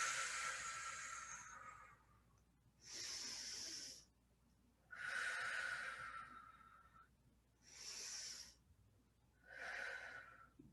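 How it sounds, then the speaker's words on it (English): Slow, deep yoga breaths, five long airy inhales and exhales separated by quiet pauses, close to the microphone and alone with no talk. "Full deep breaths."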